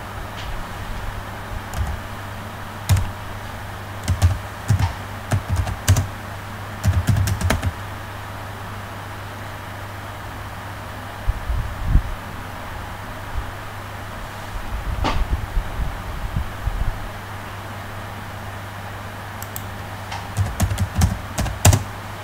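Close, steady tapping on a computer keyboard while text is entered in CorelDRAW, with fast clicking bursts separated by short pauses over a constant low electrical hum.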